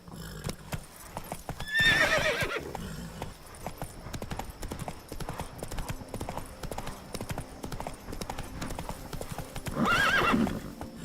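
A horse gallops in The Witcher 3 video game with steady, rapid clip-clop hoofbeats throughout, and a loud neigh comes near the start and again near the end.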